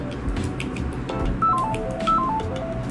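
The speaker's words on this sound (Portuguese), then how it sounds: "Pera aí que eu vou ter que ir no telefone." Telephone keypad tones beep in short sequences at a home desk, a series of bright stepped beeps repeated twice over steady background noise.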